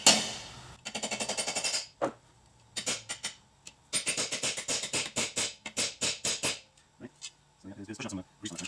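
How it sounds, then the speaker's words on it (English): A finishing punch is hammered to drift an AK47 barrel into place, in rapid bursts of sharp metallic strikes separated by short pauses, loud and close. "We're going to be using this as our finishing punch, what we use to drift it out."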